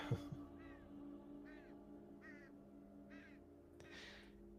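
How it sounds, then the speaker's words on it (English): Crows caw in background ambience during a tabletop role-playing session, four or five faint, distant calls spaced evenly over a low steady hum. "I think this is Crows."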